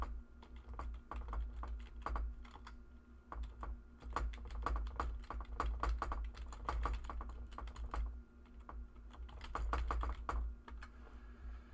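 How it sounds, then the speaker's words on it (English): Fingers type on a computer keyboard in rapid, irregular bursts of close, crisp key clicks with brief pauses and no talking. "I'm typing on the wrong computer"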